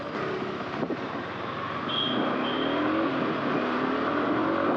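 A Yamaha R15 V4 sports motorcycle engine drones steadily while riding, its pitch climbing as it revs up, with wind rushing over the microphone throughout.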